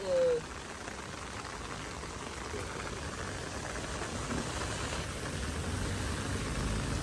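Heavy rain pours steadily during a fishing trip, a dense wash of drops drumming on surfaces at close range, with a brief voice at the very start.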